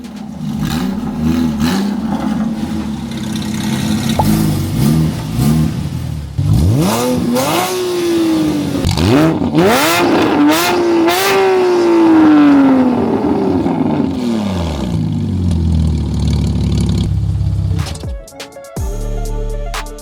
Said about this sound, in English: Man, the exhaust system totally blew my expectations out of the water. It sounds incredible.